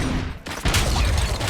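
Gunshots from the RoboCop: Dead or Alive video game: a steady roar of rapid fire, a brief break, then a heavier burst of shooting that carries on to the end.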